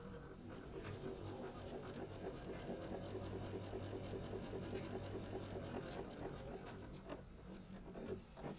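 A sewing machine runs steadily through fabric for a few back stitches, a close, even whirring hum with a rapid needle rhythm, no talk over it.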